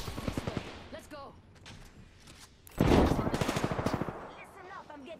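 Apex Legends gunfire hitting the player, rapid automatic bursts of shots in quick rhythmic strings, with a louder, closer volley midway, mixed with game effects and a player's voice talking over it.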